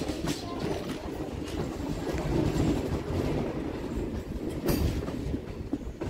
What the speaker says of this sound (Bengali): এখান থেকেই আমাদের ট্রেনটা ঢুকছে সিঙ্গেল লাইনে।